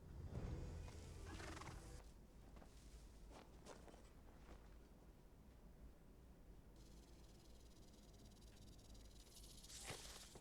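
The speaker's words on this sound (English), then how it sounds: "Almost sounds like hooves." Horse hooves approach in a fantasy TV series, heard as a steady clip-clop of several horses with a whinny, set against wind and a low rumbling ambience at moderate distance.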